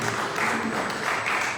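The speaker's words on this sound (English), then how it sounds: "Please, a round of applause for him." Audience applause fills a short stretch at an Africans Rising awards event in Abuja, a steady wash of many hands clapping at moderate loudness with no speech over it.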